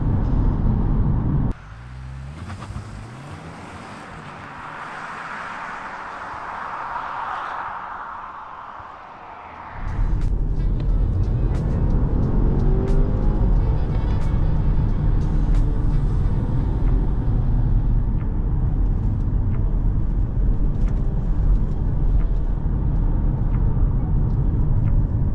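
A 2021 Volvo V60 T6 Recharge AWD, a 340 hp 2.0-litre inline-four plug-in hybrid, brake-boosted from a standstill, its engine note rising and building before a sharp surge into sustained loud acceleration with road roar, heard from inside the cabin.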